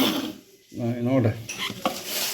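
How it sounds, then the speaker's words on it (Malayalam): A spoon scrapes and stirs around a pot of boiling milk for payasam, giving metallic clinks and swishes over a soft bubbling hiss, close by. "പാല് നന്നായിട്ട് തിളക്കുന്നുണ്ട് കേട്ടോ. ഒന്ന് നന്നായിട്ട് ഇളക്കി കൊടുക്കാം."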